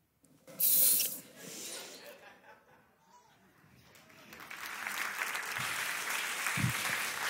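Audience applause at a talk by Patrice Martorano, starting as a sharp burst of clapping, easing off, then swelling again into broad, sustained hissing applause with some voices mixed in.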